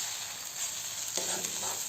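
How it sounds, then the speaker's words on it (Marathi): Upma, a semolina breakfast dish, is stirred in a frying pan over a steady, close hiss of sizzling, with a scraping stir swelling slightly midway. "आता आपण याला ढवलायचंय बघा."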